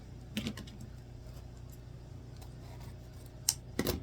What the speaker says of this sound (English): I'm going to thread my scissors right through that crease